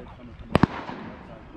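Two quick shotgun blasts crack nearby during a public-land duck hunt at San Jacinto in Southern California, a sharp double report over faint outdoor background.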